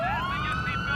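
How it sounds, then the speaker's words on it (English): A police car siren in the video game GTA IV wails loudly and close, a single rising electronic tone sweeping upward and holding over a low engine rumble. "Let me kill my siren before we talk"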